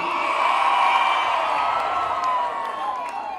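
Large outdoor political rally crowd in Albion cheering and whooping loudly and continuously, a dense sustained roar with scattered shouts throughout.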